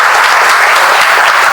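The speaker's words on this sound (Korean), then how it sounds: "조성호 상임대표님께 힘찬 박수 부탁드리면서" Dense, steady applause from the assembly at a Seoul civic group's founding meeting for co-representative Cho Seong-ho, loud and continuous throughout.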